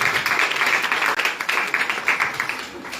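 A school awards audience applauds in a continuous burst of many clapping hands, loud and close, with individual claps pulsing through the wash.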